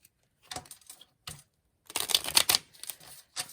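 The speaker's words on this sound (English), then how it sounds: "So while I'm shuffling these and getting these out" Oracle cards are riffled and slapped together in short bursts, close and crisp, separated by brief silences, with a longer flurry of shuffling in the middle.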